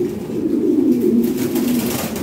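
A fancy breeding pigeon with a bright red beak coos continuously up close, a low rolling warble sustained across the whole stretch with steady loudness.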